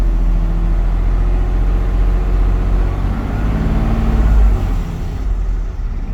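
A Class B truck engine runs steadily at idle while building air pressure, a loud, close, continuous low rumble with no talk.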